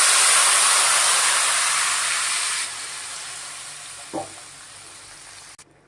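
A loud, steady sizzle of tamarind water hitting hot oil while making puli kaichal, gradually fading to a quieter bubbling hiss, with a brief clink near the end.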